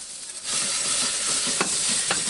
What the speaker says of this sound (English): I'm going to slowly whisk in 1 cup of milk at a time.